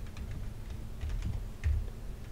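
Rapid, steady typing on a computer keyboard as code is entered, close and even in rhythm, with soft key clicks over a low background hum and no talking.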